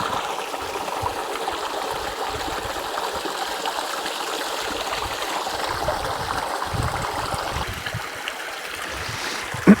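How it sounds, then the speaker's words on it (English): A spring-fed stream in a desert valley near Las Vegas runs steadily, a continuous close rushing and trickling wash of water with no voices, keeping an even level throughout. "I did not expect to find a river over here."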